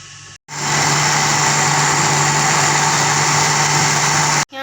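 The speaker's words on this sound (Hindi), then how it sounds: "यहाँ पर मैंने मिल्क शेक देखें अच्छे तरीके से ग्राइंड कर लिया है" A blender grinds bananas and milk into a milkshake, giving a loud, steady motor roar that starts abruptly and then cuts off near the end, close up and with no talking.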